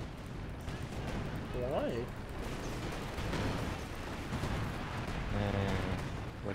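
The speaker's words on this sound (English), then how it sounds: "Calling artillery from my tanks." A Brumbär tank's 105 howitzer fires artillery in Company of Heroes 2, producing dull booms within a constant rumbling wash of battle noise, with someone talking over it.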